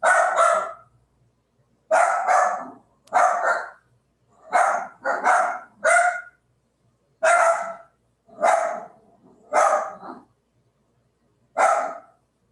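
Close, loud dog barking arrives in short clusters of one to three barks, spaced by gaps of near silence, with no other sounds.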